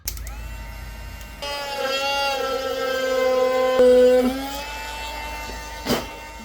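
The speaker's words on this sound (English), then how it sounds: "Now I've got to drill the holes." A drill whines steadily while boring peg holes into a handmade violin in a maker's workshop, a sustained tonal drone that rises slightly in pitch, with a brief knock near the end.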